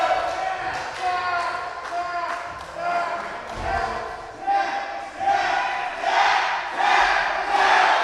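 Fans at a wrestling show shout advice at the ring, a rowdy crowd of overlapping yells and calls that swell in bursts, with thuds from the match and a commentator speaking over it.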